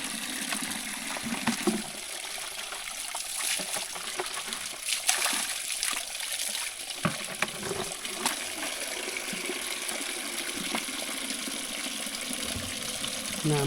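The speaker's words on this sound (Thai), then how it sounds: "น้ำไหลน้ำห้วยไหลมา" Water from a forest stream flows and trickles steadily, a close, continuous splashing burble with small spatters and no speech.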